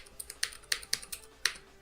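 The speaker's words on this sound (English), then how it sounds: "I'm typing on a Cherry MX Blue switch, which is quite a noisy switch" Rapid, uneven clicking of keys on a mechanical keyboard fitted with Cherry MX Blue switches, each keystroke a sharp, bright, close click in a steady typing rhythm, with no voices over it.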